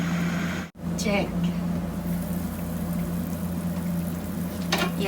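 A tinola pot comes to a boil, giving a steady, close bubbling hiss over a low constant hum, with light clinks and faint background voices now and then.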